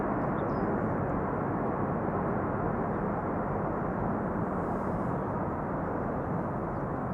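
Jet airliner landing at Amsterdam Schiphol with thrust reversers deployed, a loud, steady broadband roar that holds without letup at close range throughout, with no voices over it.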